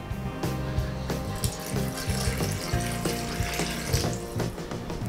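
Water runs steadily from a tap or jug into a blender jar holding apple cake batter ingredients, a continuous splashing pour at close range with no talking.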